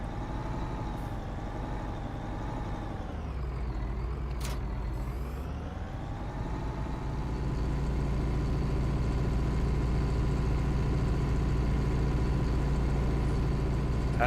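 Modded tractor engine in the Farming Simulator 19 game drones steadily at idle, its pitch dipping briefly then rising into a louder, sustained rumble, with a short hiss partway through and no talking.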